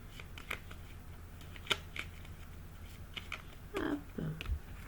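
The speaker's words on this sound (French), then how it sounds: "on va le demander quand même avec l'oracle de Lenormand" Lenormand oracle cards being handled and shuffled at close range, with quiet scattered taps and flicks over soft background noise and a few low soft thumps near the end.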